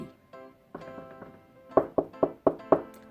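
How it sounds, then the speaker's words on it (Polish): Knocks on a door in a Peppa Pig cartoon: after a few soft tones, five sharp, evenly spaced raps ring out clearly with no talk. "kiedy ktoś zapukał do drzwi"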